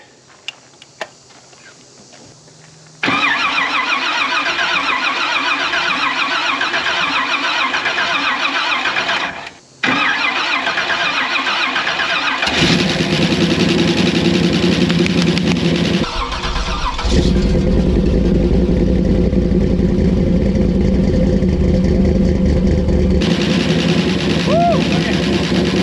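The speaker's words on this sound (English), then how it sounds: "It's not your average small block Chevy we're fixing to fire up." A small block Chevy V8 in a fire-burnt Chevrolet Bel Air cranks briefly, then fires and roars loudly and steadily close by, rising to higher revs, with a short stumble midway and voices over the running engine.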